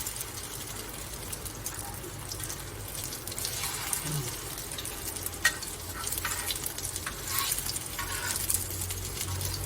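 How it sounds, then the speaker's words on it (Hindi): A chicken shami kabab mixture is stirred in a pot with steady scraping and shuffling over a constant sizzle, close and fairly loud throughout, with no speech. "इसको ऐसे थोड़ा सा हिला लें तो फिर नीचे चिपकता नहीं है"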